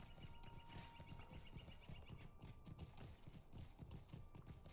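A horse ridden in Lord of the Rings Online, steady rhythmic clip-clop of hooves at a brisk gait, continuous and fairly close, a faint tonal hum in the background, no speech.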